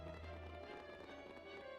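Horses galloping in Dragon Quest 7 as cavalry arrives, a steady run of hoofbeats under a low rumble and game music, moderately quiet throughout.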